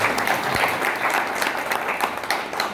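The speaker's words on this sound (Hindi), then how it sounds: "इनके लिए जरूर ताली हो जाएगी" Applause at a spiritual gathering as two young daughters, Aadya and Vidya, stand to be recognized; a full crowd clapping in a dense steady roar, loud and unbroken, with no talk over it.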